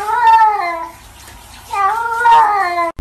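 A cat meows twice, close and loud, each call a drawn-out, wavering whine with a short pause between.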